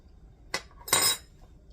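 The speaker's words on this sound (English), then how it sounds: "I got a couple spoons here, so let's taste first" Two short metal spoon clinks against a pot of homemade chili, a light tap followed by a brighter, longer rattle, close and fairly quiet with no talking.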